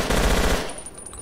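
Rapid automatic gunfire from the video game Battlefield Yugoslavia rattles loudly for about half a second, then fades to a quieter tail with faint distant shots.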